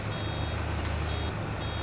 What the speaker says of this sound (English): So when it beeps, it's not taking on any more.